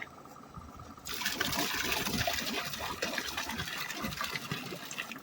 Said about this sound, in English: Now we just got to pour in the calcium nitrate.